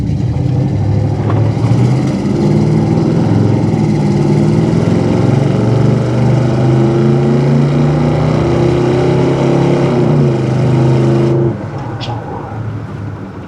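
A 1988 Chevrolet Monte Carlo SS V8 accelerates on the road, its engine note rising steadily and loudly through a long pull before easing off near the end, heard from inside the car.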